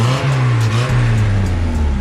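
The engine of a D3 Race Tech race truck revs loud and close, a deep throbbing roar that rises and swells over about two seconds with no voices.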